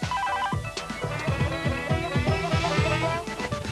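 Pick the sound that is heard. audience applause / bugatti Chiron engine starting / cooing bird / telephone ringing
telephone ringing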